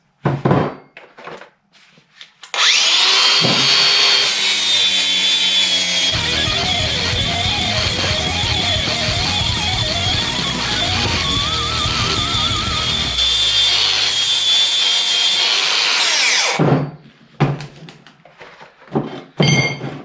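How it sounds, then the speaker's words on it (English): Power tool deburring the old links and pins from a mini digger bucket, a loud continuous grinding whine running about fourteen seconds with shifting pitch, preceded and followed by brief knocks and handling clunks. "we're going to take all the burrs off so we know we're getting it flat"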